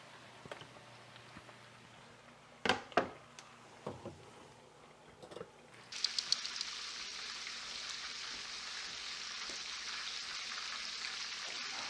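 Chicken schnitzel fries in a pan with mushrooms and bacon. A few sharp clatters come first, then a loud, steady sizzle takes over and runs on without any talking.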